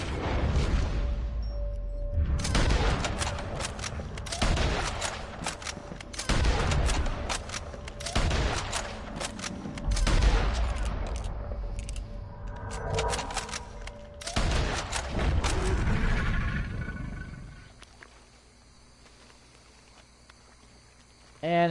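Gunfire in the video game Deadringer, with a series of loud, evenly spaced shots over about fifteen seconds before fading to near silence.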